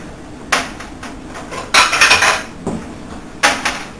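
A small plate is picked up and handled in a kitchen, producing several sharp ceramic clinks and clatters in quick bursts, close and fairly loud, with quiet pauses between, no voices.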